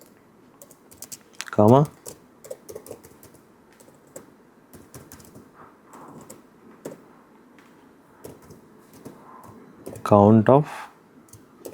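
Bursts of quick computer keyboard typing as an SQL query is entered, close and crisp, with two dense clusters of keystrokes separated by scattered clicks, under a person talking.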